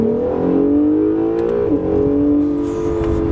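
A modified 2017 Acura NSX hybrid accelerates hard from a roll, its engine note climbing steadily and loud and close, with a brief dip in pitch partway through, then continuing to pull.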